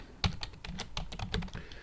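Quick, irregular clicks of someone typing on a computer keyboard, close and fairly quiet, with no voices.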